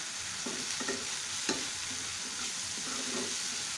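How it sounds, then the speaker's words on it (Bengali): Chopped onions sizzle in hot oil in a wok while a spatula stirs them, with a steady frying hiss and repeated scraping strokes close up. "এখানে একটি কড়াইয়ে তেল দিয়ে এখন এখানে প্রথমে দিয়ে দিচ্ছি পেঁয়াজ কুচি। এখন খুব ভালোভাবে নেড়ে দিচ্ছি।"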